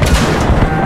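A loud, close explosion in the game Battlefield 3, a deep rumbling blast with heavy low-end weight that fills the whole moment without any speech.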